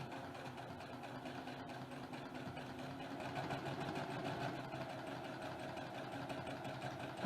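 A sewing machine runs steadily as it stitches quilt pieces along one side of a line, a continuous mid-pitched mechanical hum with a close, even whir lasting throughout without talk.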